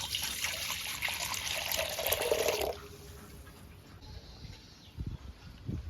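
A few seconds of water pouring in a steady splashing stream into lemon juice for a lemon salt water drink, then it stops, leaving quiet handling sounds.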